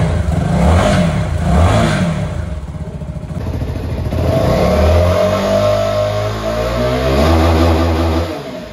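A nearby Keeway K300 N motorcycle engine idles with a rough, throaty rumble, then revs up and settles again, loud and continuous without any talking.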